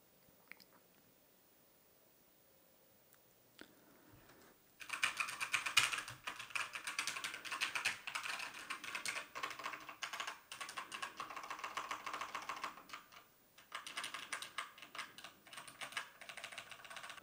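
Rapid clicky typing on a Redragon Zed Pro wireless mechanical gaming keyboard with brown switches, starting after a few quiet seconds, then dense close keystrokes with a short pause before resuming.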